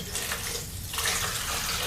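Copper acetate solution poured steadily into a container, a continuous liquid rush that stays loud and even throughout with no voices.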